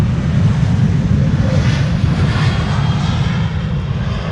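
A jet airliner departs Amsterdam Schiphol Airport, its engines giving a loud, steady broadband roar with low rumble and some wind buffeting that holds throughout with no break.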